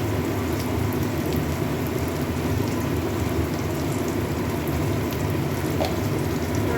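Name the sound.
taro flowers added to hot pan, sizzling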